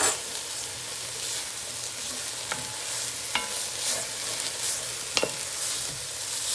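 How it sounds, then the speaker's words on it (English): A spoon scrapes and stirs through beef vegetable soup in a pot, with a constant sizzling, bubbling bed and a few sharp clinks against the pot's side, close and busy, no talk. "I'll mix it in."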